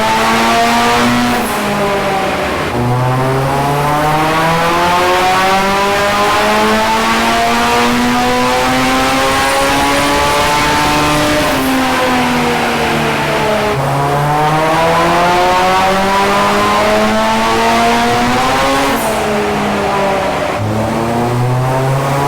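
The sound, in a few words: Ford Sierra XR4i with turbo Honda S2000 engine on rolling-road dyno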